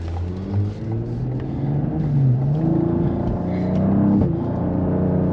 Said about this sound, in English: Oh yeah, the exhaust sounds really nice.